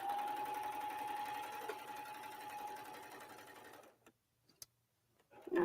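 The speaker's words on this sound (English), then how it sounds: "top stitching is I'm sewing on the top of the fabric" Sewing machine running steadily while top stitching through quilting fabric, a fast even mechanical rhythm for about four seconds before stopping, followed by a few faint clicks and handling noises.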